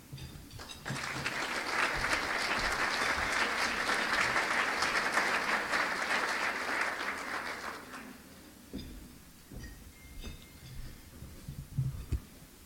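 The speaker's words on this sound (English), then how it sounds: "Let's give them another round of applause." Dense applause from a luncheon audience at a public service awards event rises quickly, holds steady for several seconds, then thins out into scattered claps and soft room murmur.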